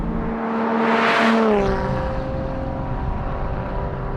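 A Lotus sports car engine roars past, its pitch rising then dropping as it accelerates, followed by a sustained engine drone.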